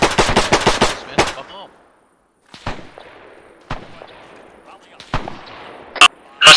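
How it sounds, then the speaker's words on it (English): Rapid automatic weapon fire and separate heavy cannon-like shots in a World War II video game set during Operation Market Garden: a fast burst of loud cracks, a pause, then scattered single blasts with echoing tails. "Have we identified where that cannon fire's coming from?"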